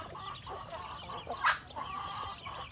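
Calm chickens cluck softly and steadily inside their coop beside a water bottle, with one brief louder call midway through a low, continuous murmur.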